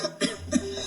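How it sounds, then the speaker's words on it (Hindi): Two short, sharp coughs close to the mic, with a faint background hum between them. "खांसी रुक ही नहीं रही।"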